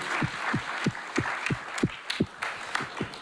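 Conference audience applauding together, a steady wash of many hands clapping with a loose rhythmic pulse, moderately loud and filling the room for a few seconds without speech.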